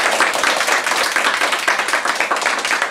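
Dense audience clapping at an anniversary celebration, steady and loud throughout, many hands close together with no voices.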